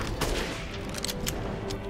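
Gunfire in the video game Resident Evil Village cracks out in several quick bursts over a dense, rumbling game soundscape, fairly loud and without speech.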